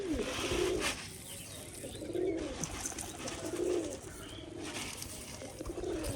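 Pigeons at home on a rainy day coo in a clear repeating rhythm, a few throaty calls spaced about a second apart against soft background noise.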